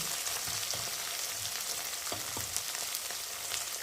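Ground spice paste with ginger, tomato, turmeric, chilli powder and salt frying in oil in a pan, a dense continuous sizzle, fairly faint and even, with occasional soft stirring taps and no talking.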